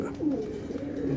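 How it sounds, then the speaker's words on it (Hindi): Pigeons coo in a rooftop loft, including a green-necked home-bred Allah Rakha bird, with steady, close, rolling coos repeating through the moment. "उस्ताद सुल्तान शाह शरपुर शरीफ की छत पे अल्लाह रखा कबूतर संभालते हुए"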